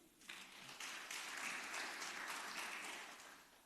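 A church congregation claps together, rising quickly into a sustained round of applause that holds steady for a few seconds before easing off; it sounds somewhat distant and soft.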